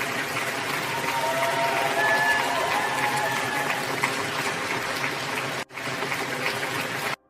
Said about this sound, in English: That's probably why they're clapping.